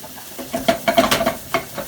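Onions sizzle and crackle in a hot pan while a spatula scrapes and stirs in quick, uneven strokes, close by with no talking.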